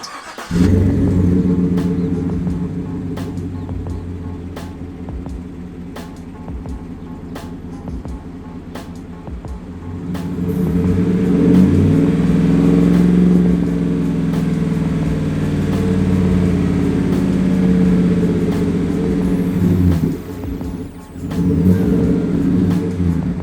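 A lowered 2018 Chevy truck with a Flowmaster Outlaw series exhaust idles with a deep rumble, then revs up loudly and holds before dropping back and blipping again, close by.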